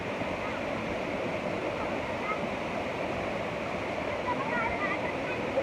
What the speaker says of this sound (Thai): ที่นี่คืออุทยานน้ำตกตาดตนนะครับ